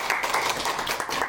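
Audience applause at an open mic show as a guest is welcomed on stage, a dense brief wash of clapping from a crowd, steady and moderately loud.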